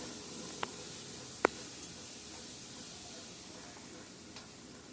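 Blended tomato and coriander chutney goes into a tempering of cumin, curry leaves and dry red chillies in oil, giving a quiet, steady sizzle with a couple of sharp stirring clicks and no talk.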